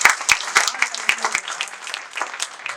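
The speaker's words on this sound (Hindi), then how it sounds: "एक बार जोरदार तालियां" An audience at a humorous Hindi poetry gathering gives a burst of clapping, sharp separate claps at first thickening into a looser patter that rises and falls, moderately loud.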